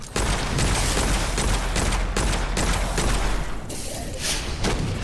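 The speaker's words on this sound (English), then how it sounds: "these flashbangs are pretty powerful, huh?" Repeated heavy flashbang blasts and thuds from the video game Witchfire, loud and dense with rumbling low end, with a voice faintly in the mix.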